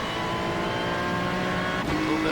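Race cars in the iRacing sim, a Ferrari and Porsches, drone steadily on track: a continuous, loud engine roar with layered harmonic tones and no break, with a slight pitch shift near the end.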